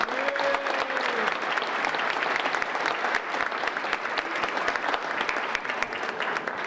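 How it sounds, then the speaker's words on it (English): Steady, sustained applause from a seated audience at a Rotary Club senior luncheon, dense clapping holding at an even level throughout with faint crowd murmur and no break. "So let's give a huge round of applause again for the Rotary Club."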